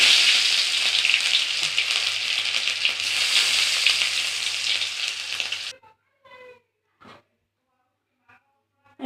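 Dried chilli, cumin and ginger hit hot oil left from frying aubergine, giving a loud, steady crackling sizzle for several seconds that then cuts off abruptly, leaving a few faint stirring clinks.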